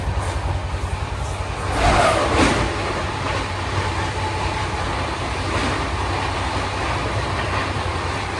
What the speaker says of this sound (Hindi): चलिए शताब्दी क्रॉसिंग आ रही है अभी।